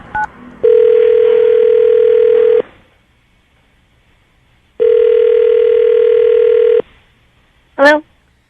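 Telephone dial tone sounding in two long, steady bursts separated by silence, then a short rising chirp at the end, heard on a morning radio show's prank call with no talking over it.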